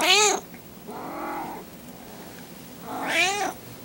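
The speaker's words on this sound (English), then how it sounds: "Boo Kitty is telling me that she wants me to feed her" A hungry cat meows up close, giving two loud rising-and-falling calls with a softer, shorter meow between them, in a quiet room.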